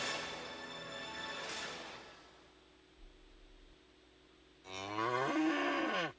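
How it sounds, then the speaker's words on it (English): A cow lets out one loud, drawn-out moo near the end, after a quieter stretch of hiss and faint background noise. "This is a cow whose milk became everyone's favorite cheese at the craft fair."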